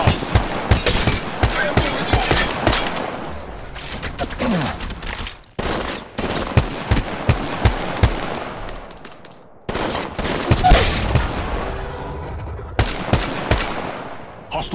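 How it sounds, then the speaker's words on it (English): Rapid automatic gunfire in the Apex Legends battle royale, with dense, loud bursts of shots running almost continuously and only brief gaps between volleys. "Taking fire from up there."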